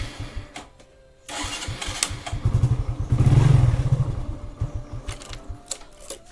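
A KTM RC motorcycle starting: a brief starter whir, then the engine catches and idles with a rapid, even mechanical clatter, rising briefly near the middle, heard close with no talking.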